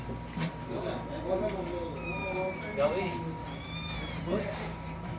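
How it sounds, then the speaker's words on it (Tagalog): Several cats meow repeatedly, close and fairly loud, while people talk over them. "Ang daming cat, ang daming pusa."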